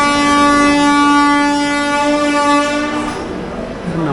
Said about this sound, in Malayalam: ആ ഹോണ് വേറെ വണ്ടിയുടെ ആയിരുന്നു